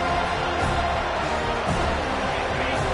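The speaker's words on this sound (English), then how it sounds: "Decibels rising as the crowd gets behind this defense on third down." Stadium crowd in College Football 25 during a third-down defensive stand, a loud, dense roar of cheering fans that holds steady throughout, close and unbroken.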